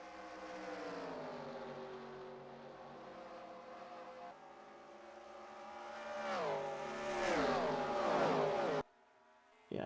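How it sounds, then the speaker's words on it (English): Stock cars in the NASCAR Racing 2003 video game, racing at California, roar past in a steady engine drone that swells as several cars scream by in pitch-dropping passes, loud and close, then cuts off abruptly. "Michael Waltrip has just lost the handle on that race car"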